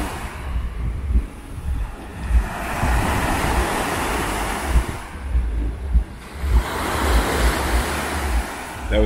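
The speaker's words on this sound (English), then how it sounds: "Can you hear those waves?" Ocean waves washing onto Spennah Beach in Entebbe, Uganda, rolling surf in broad swells that build and recede, with gusty wind buffeting the microphone throughout.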